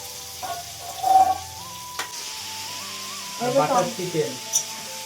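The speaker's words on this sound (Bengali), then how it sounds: "চিকেনটা এখন কষানো হচ্ছে" Chicken sizzling as it is sautéed in a pan in a home kitchen, a soft frying hiss with a few stirring clatters and a steady tonal hum, close by, while a voice speaks briefly over it.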